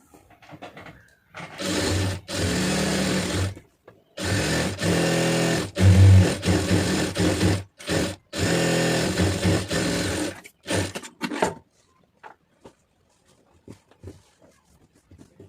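Electric sewing machine stitching the neckline of a star neck blouse, running in several loud bursts of steady whirring separated by short pauses, close by, with no talking.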